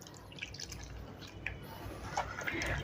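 Water trickles and drips into a bowl of batter for bread bajji, soft continuous liquid sounds close by with small splashy spikes.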